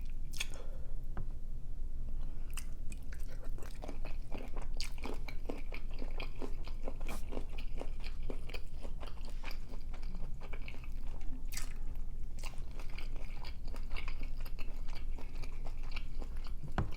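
Close-up eating of shrimp from a king crab seafood boil, with continuous wet chewing, squishing and soft crunches, loud and near, with no talking.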